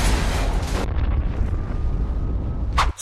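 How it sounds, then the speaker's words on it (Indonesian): A heavy, roaring blast with a dense low rumble as a building explodes in an action film, loud and sustained, thinning out toward the end with a brief sharp sound near the close. "Setelah gedung meledak"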